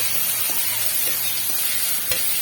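Salted hilsa fish head frying in hot oil, a dense continuous hiss and crackle with a few faint stirring knocks, close and even in level, no voices.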